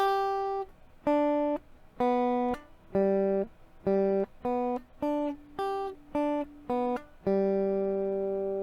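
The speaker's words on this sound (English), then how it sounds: "Okay, now that's the arpeggio." Guitar arpeggio played note by note, each plucked note cleanly separated by short gaps, moderately loud and close, ending on a longer ringing chord.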